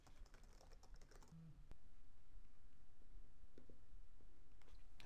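Quick keystrokes on a computer keyboard as a web address is typed, quiet and close in a still room with a faint steady hiss behind.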